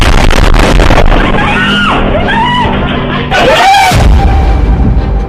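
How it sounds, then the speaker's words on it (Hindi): A bomb explosion in Tel Aviv, Israel, heard as loud, close booms and bangs with people screaming and shouting amid the chaotic noise. "इजराइल की राजधानी तेल अवीव में फटा बम।"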